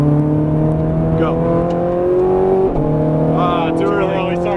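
Ferrari 430 Scuderia engine pulls hard on a racetrack, its pitch climbing steadily, dipping at a gear change, then rising again under a driver's voice inside the cabin.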